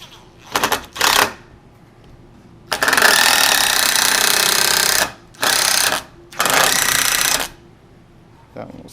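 A power drill drives through a platform shoe in several loud, close bursts of whirring, broken by short pauses. Brief clicks and taps are heard between the bursts.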